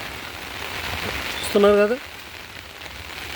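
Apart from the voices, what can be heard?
heavy rain falling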